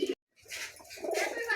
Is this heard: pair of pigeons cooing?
yes